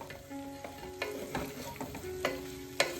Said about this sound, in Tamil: இப்ப ஒரு தடவை கலந்து விட்டுக்கலாம். நல்லா அந்த மசாலா கூட கொத்தரங்காய் நல்லா சேர்ந்து வரட்டும்.